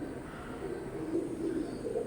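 Soft, low cooing of small Teddy pigeons, a few gentle murmuring calls close together, faint against quiet background noise.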